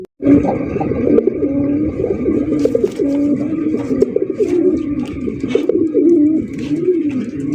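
A pair of Sirazi pigeons cooing loudly and continuously at close range, rolling throaty coos repeating with little pause throughout, with a faint background hum.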